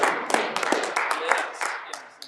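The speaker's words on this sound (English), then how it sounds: "let's give another round of applause for Dr. J." Audience applause at an evening arts event, a run of scattered hand claps with a few sharper slaps rising over a murmuring crowd, with voices mixed in throughout.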